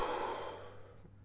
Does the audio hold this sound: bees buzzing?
no